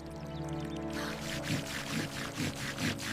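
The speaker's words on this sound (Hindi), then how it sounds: "इस पूंछ पर पानी डालो" Water poured over the muddy tail of a stranded 30-foot giant fish, a steady splashing pour with a few rhythmic surges, close and without speech.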